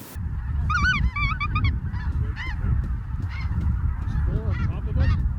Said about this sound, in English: Ducks on the right.